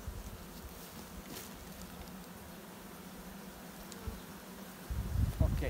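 A honeybee swarm being recovered outdoors, its steady low buzzing droning continuously in the background, with a louder rustling burst near the end.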